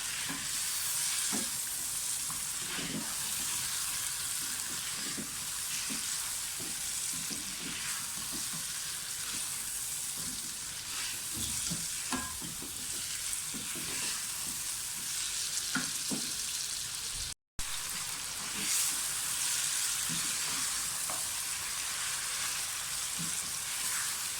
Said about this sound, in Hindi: ये हमारे सारे पिसे हुए मसाले हैं, ये डाल दें, फ्राई कर लें अच्छी तरह से